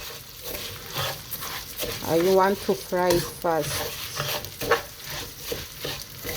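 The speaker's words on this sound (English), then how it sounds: "I don't wash the rice because I want to fry it first." Uncooked, unwashed rice frying in a pan, stirred and scraped in a busy sizzling rush, with a voice that rises and falls in the middle part of the clip.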